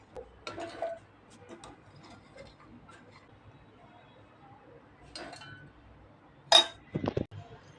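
Ingredients for a Marathi coconut masala go one by one into a mixer jar: a few soft clinks and taps, with a sharper glassy clink and quick knocks near the end, close and otherwise quiet.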